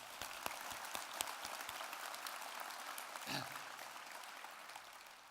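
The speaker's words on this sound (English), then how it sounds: "Let's give the Spectrum team a round of applause." An audience at an award ceremony applauds a team, continuous dense clapping filling the room with a few sharper nearby claps, faint and distant overall.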